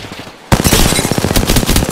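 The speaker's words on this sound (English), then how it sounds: "Taking fire." Rapid automatic gunfire in Apex Legends bursts in abruptly after a quiet half-second, a dense, loud stream of closely spaced shots with no talk over it.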